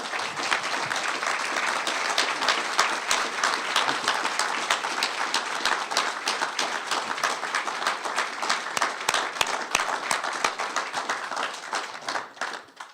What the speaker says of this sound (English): please, let's give a round of applause to our great veterans for all they've done